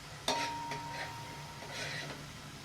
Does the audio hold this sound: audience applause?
no